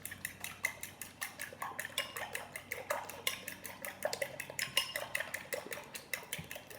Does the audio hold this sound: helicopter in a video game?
no